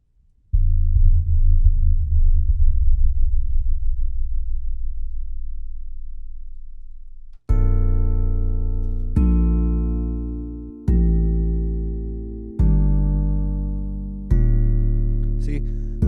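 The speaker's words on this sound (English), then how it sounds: "the 808 is in tune with my track" Deep 808 bass notes tuned to a track hit one after another, each sustaining and slowly fading, starting with a long low boom followed by several shorter pitched hits.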